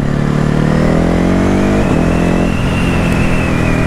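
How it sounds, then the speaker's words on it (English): A motorcycle rides through peak-hour traffic, its engine loud and close with a steady droning hum and a rev change midway, no talking over it. "just wanted to quickly get out on the bike and do a few kilometers"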